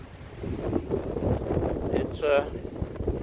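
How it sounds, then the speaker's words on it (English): Steady wind buffets the microphone in a continuous low rumble, with gusts swelling and fading throughout. "It's windy."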